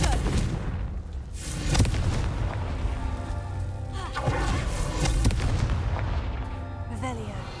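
In the Hogwarts Legacy video game, a Confringo spell blasts damaged rocks, producing deep booming impacts and rumble that roll through dense game ambience and music, with a few sharper hits standing out.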